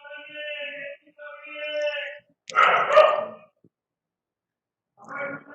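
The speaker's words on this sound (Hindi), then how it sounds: "क्या यार कुत्ते भौंक रहे हैं" Dogs bark and whine near a room where an engineering mathematics lesson is being recorded. Long drawn-out cries give way to a loud cluster of barks, then silence and another short burst.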